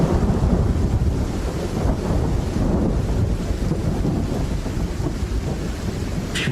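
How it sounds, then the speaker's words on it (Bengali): A thunder strike rumbles through a stormy horror scene, with heavy low, wind-like roaring and rolling noise that holds loud and steady throughout, no distinct single crack standing out. "শেষে একবার প্রচন্ড জোরে বাজ পড়ল"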